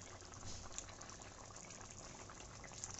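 Ridge gourd and potato posto curry boiling in a pot over a high gas flame, giving a very faint, continuous bubbling hiss with no voices.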